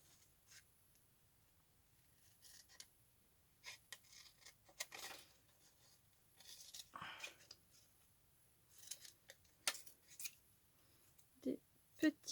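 Scissors snip paper into small pieces for a vintage-style craft card, a scattered run of quiet, close cuts and crisp rustles with soft handling noises between them.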